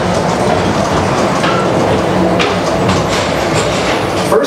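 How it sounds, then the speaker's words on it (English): Steady rolling rumble of the Magic Kingdom PeopleMover train running along its elevated track at night, a loud continuous drone with faint clicks, no voices. "your express train keeps on rolling through the future"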